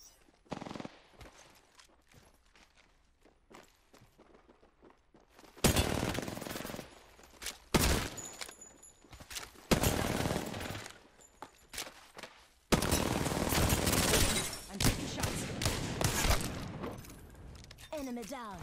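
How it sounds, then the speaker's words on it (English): Bursts of rapid R9 gunfire in a 1v1 shooter tournament match, loud repeated volleys separated by quieter gaps with some voice underneath. "Taking some jump shots with the R9."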